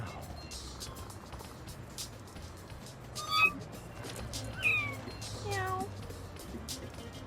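A few short cat meows from the video game No More Heroes rise above a quiet background with a low steady hum, spaced a second or so apart.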